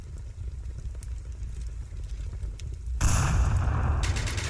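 Grenade blasts and gunfire in the VR shooter Onward during a competitive match, a low rumbling backdrop breaking into a louder burst of blast noise at about the three-second mark that stays loud to the end.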